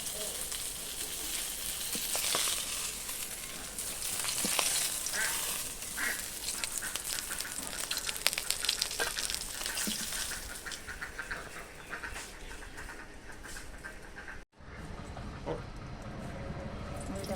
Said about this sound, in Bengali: মাছ ভাজা হয়ে গেছে, এই যে মাছ ভাজা নামিয়ে নিচ্ছি